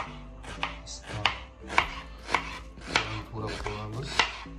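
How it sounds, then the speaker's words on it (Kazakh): A knife chops potatoes finely for a Kazakh minced-meat and potato dish, about eight crisp, evenly spaced strikes on a board, close and clear, with no talking. "Картошкамызды майдалап салып қойдық осылай"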